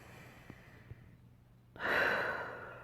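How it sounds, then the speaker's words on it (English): A deep, drawn breath during a yoga breathing exercise: a quiet, close, airy rush that swells suddenly and holds steady for about a second after a near-silent pause, with no talking. "Take a nice deep inhale here."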